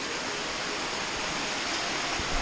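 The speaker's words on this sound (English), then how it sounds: "Another cascade." Water pours down a rocky cascade in Mapleton National Park, a steady, broad rushing roar that holds loud and close without a break.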